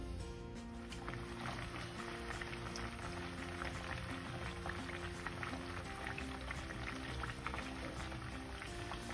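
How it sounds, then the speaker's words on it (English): Potatoes fry in oil with a steady, faint bubbling and crackling sizzle that continues evenly throughout, with no voices. "As the potatoes is frying,"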